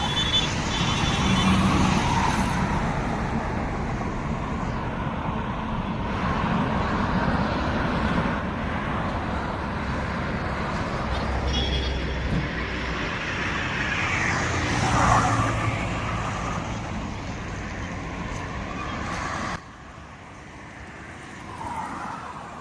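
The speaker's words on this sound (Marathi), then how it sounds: "गाड्याच गाड्या" Heavy road traffic on the way to Prayagraj during the Mahakumbh: a continuous rumble of passing cars and trucks with occasional horn-like tones and swells as vehicles go by, fairly near and unbroken.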